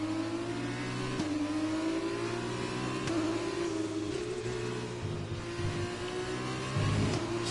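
A race car engine accelerating hard and revving high, loud and close throughout, with the pitch climbing and briefly dropping at gear changes, no talking over it.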